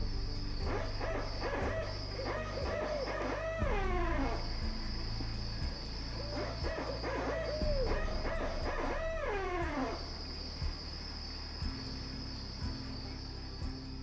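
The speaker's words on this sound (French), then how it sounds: "simplement avec des stations où on écoute les hiboux" Owls at a winter listening station for ecological monitoring, calling in repeated wavering, descending hoots over a constant chorus of insects, at moderate distance.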